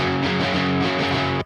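An electric guitar with stock pickups, run through amp-sim distortion in a pop punk style, rings out as a thick, buzzy, crackly chord held steady at full volume before cutting off abruptly.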